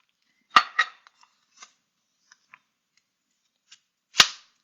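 A knife chops sweet potato on a cutting board during vegan cooking, giving two quick sharp knocks, a few faint taps, then one more loud chop near the end, with no talking.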